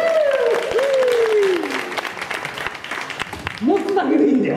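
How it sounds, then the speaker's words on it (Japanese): Audience applause at an evening street-performer festival show at a temple in Osaka's Osu district, a dense steady clatter of many hands lasting several seconds, with a performer's voice sliding over it at the start and near the end. "皆様、大きな拍手お願いします。"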